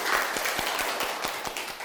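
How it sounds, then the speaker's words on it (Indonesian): Applause from a class at the start of a lesson, a fairly faint patter of claps with a few sharper individual claps standing out, steady for about two seconds. "tepuk tangan dulu."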